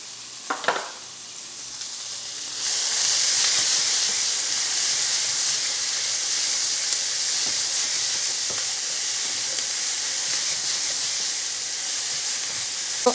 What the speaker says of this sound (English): this is the point where I'm going to add the noodles